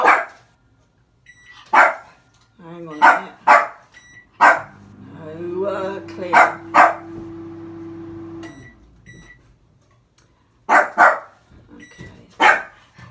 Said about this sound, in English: Of course you're going to bark because I'm trying to do this.